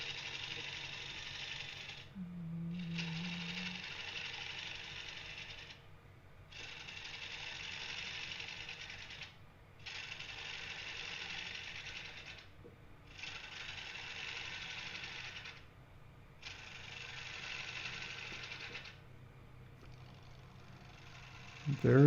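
A wood lathe spins an unbalanced live-edge bowl blank while a gouge makes light cuts from left to right, giving a steady low motor hum broken by several separate hissing cutting passes, each lasting a few seconds.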